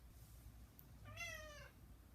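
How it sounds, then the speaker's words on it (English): A single drawn-out cat meow, fairly close, rising then falling, over a quiet low background hum. "Stupid cat knocked my computer down."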